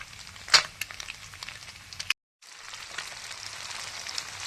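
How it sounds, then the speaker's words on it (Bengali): Fish frying in a pan gives a soft continuous sizzle with a few sharp spits and crackles, broken by a brief silent gap, no voices. "মাছ ভাজতে দিয়ে দিয়েছি, এখনো অতটা আছে, আস্তে আস্তে ধৈর্য ধরে ভাজছি"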